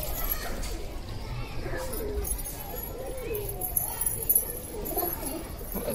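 Pigeons coo softly among outdoor background noise, with a person talking over them and a few scattered knocks.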